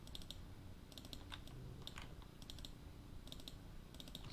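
Steady computer keyboard and mouse clicking during 3D car modeling work, light rapid taps coming in short clustered bursts over a low background hum, close and fairly quiet, no talking.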